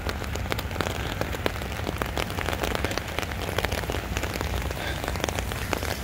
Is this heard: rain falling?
yes